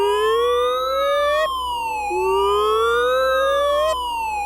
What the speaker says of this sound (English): A siren went off